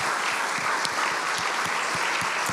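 An audience gives a round of applause for a campaign team at a Q&A meeting, steady, close clapping from a crowd with distinct individual claps standing out in a regular rhythm.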